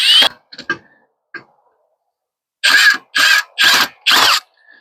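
A power tool, likely a drill or impact driver, tightening mounting hardware on a Renogy 100W solar panel kit, heard as a few short ratcheting bursts followed by four loud, evenly spaced whirring pulls, close up with no talking.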